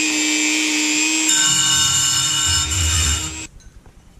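A power drill bores an angled hole into an ADJ Magna Tube, a steady high-pitched whine with a lower grinding tone as the bit bites, running several seconds close up before cutting off abruptly.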